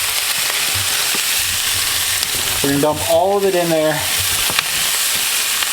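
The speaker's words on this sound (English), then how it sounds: "The pan's hot. Listen to that sizzle." Chopped bacon sizzles steadily in a hot disposable pan, a loud broadband hiss throughout, with a voice speaking briefly over it near the middle.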